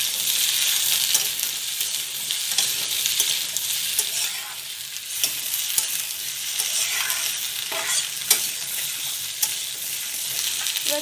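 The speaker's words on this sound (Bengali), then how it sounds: "এই ঝিঙেটাকেও আলুর সাথে পেঁয়াজের সাথে ভালোভাবে ভেজে নেব" Ridge gourd, potato and onion frying and being stirred in a pan, a steady close sizzle with scraping stir sounds throughout, no voices.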